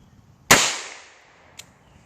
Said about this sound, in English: I'm going to take a couple shots at the berm right here